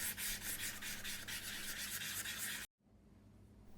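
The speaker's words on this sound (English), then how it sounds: "I use some high grit sandpaper to carefully remove some of the darker dyes on the high spots" Fine high-grit sandpaper rubbing across dyed leather on raised high spots, a steady close scratchy rasp with rhythmic strokes that stops abruptly near the end, leaving quiet room tone.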